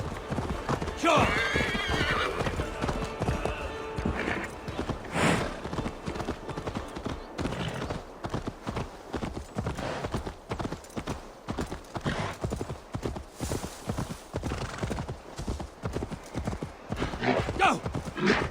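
A horse gallops and neighs in Assassin's Creed Valhalla, with fast, rhythmic hoofbeats pounding throughout, loud and close, broken by whinnies, while voices talk over the ride.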